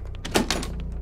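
Locked door in the video game Paranormal Entities, rattled in a quick series of several short knocking thuds against the frame over about a second, close and alone.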